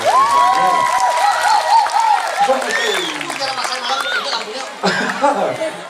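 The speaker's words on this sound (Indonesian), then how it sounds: "boleh kita tepuk tangannya dulu dong untuk kita semua" A crowd applauds and cheers at a Balinese Barong fragmentari stage performance in Buleleng, a loud, continuous wash of clapping with voices calling out over it throughout.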